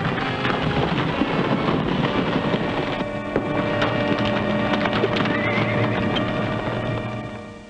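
Horses whinny and hooves clatter amid a dense, loud rumble of commotion, continuous throughout with no speech.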